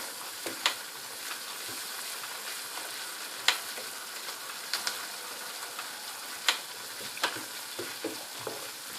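Flour roasting in melted butter in a pan makes a low, even sizzle, punctuated by crisp clicks and taps of a spoon against the pan at irregular intervals, quiet and free of talk.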